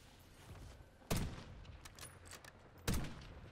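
Gunfire in the Black Ops 6 video game: two loud, sharp shots about two seconds apart, each with a short echoing tail, over a low steady game background with no talk.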